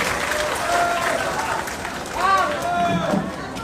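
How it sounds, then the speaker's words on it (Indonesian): Audience applause for a speaker named Bang Kafa at a public forum, a steady wash of clapping and crowd noise throughout, with a voice talking over it near the end. "Kita tepuk tangan dulu untuk Bang Kafa."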